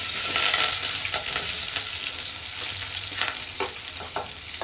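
Steady, loud sizzling of chopped onions and curry leaves frying in hot oil for a chicken curry, with occasional crackles and pops, no voices.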